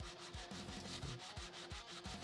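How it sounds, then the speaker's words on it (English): A thick cast resin model piece is sanded by hand in rapid back-and-forth rasping strokes, several per second, close and fairly quiet, with no voices. "I'm sitting there sanding this thing because this thing's like super thick"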